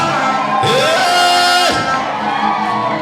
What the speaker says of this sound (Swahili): mpigie makofi na vigelegele kama uko hai